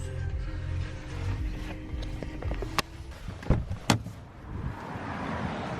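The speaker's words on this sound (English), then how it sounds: "See, open the car door" Car door opened close by, heard as a sharp latch click followed by a couple of thumps and rattles, set against low ambient rumble.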